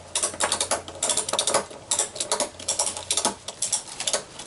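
Ratchet straps being tightened on an arbor: quick repeated clicking ratchet strokes in short close bursts, separated by brief pauses.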